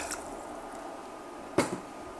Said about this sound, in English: So take all your ingredients and just pour them all in.